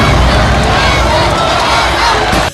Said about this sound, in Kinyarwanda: Abafana barafana Jason